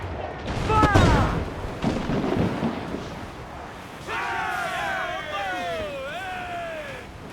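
Cannon fire from a sailing warship in Assassin's Creed IV Black Flag, a heavy boom near the start followed by rumbling, then shouting voices and a creaking, whistling tone over the aftermath.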